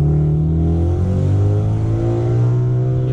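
A Mazda RX8 with its rotary engine revving loudly up close, a buzzy, dense engine note that climbs in pitch and swells steadily over three seconds with no talking.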